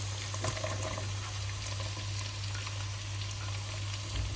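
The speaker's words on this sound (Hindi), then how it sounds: "इसमें हम प्याज डाल देते हैं," Onions frying in oil in a pan for black pepper chicken, a steady even sizzle close by with a low constant hum underneath and no talking.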